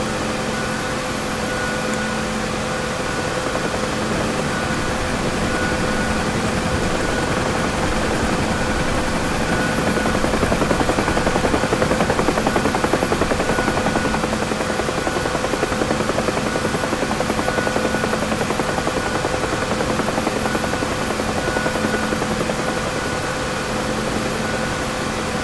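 Simulated UH-1H Huey helicopter in flight, a steady continuous rotor and turbine drone, loud and close, holding level for the whole span with a slight swell midway and no talking.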